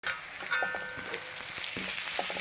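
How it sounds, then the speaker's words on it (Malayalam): Chopped onions for upma fry in a pan with salt added, a loud steady sizzle with scraping stirs and soft knocks of the spoon, close and without speech. "ഉപ്പിട്ട ശേഷം നന്നായിട്ട് ഇളക്കി കൊടുക്കുന്നു."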